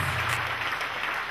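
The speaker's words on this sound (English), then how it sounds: "Rise up and clap for Jesus." Church congregation clapping during a worship service, a brief, dense burst of many hands applauding together at close range.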